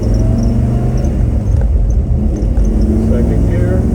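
1966 Chevrolet Chevelle SS-396 with a 325 hp L35 V8 and 4-speed manual pulling away in first gear, a loud, deep steady engine rumble close by.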